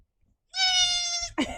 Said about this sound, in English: Goats are very dramatic.